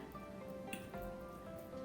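Rain falls steadily on a rainy morning, a soft, faint, even patter with light scattered drips and no speech.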